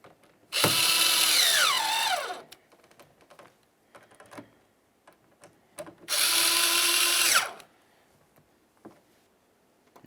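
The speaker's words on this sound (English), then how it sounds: "Once they're all started, go ahead and snug them right up." A power drill drives the mirror mounting screws on a 1999-2003 Toyota Solara, running in two loud bursts of about two seconds each with a falling pitch in the first, and light clicks and handling noises in between.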